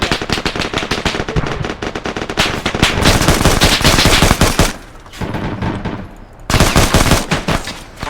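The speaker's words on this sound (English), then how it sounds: "Can you stop shooting it?" Gunfire in a military video game: loud, rapid machine-gun bursts in sustained volleys, broken by a brief lull before another heavy burst.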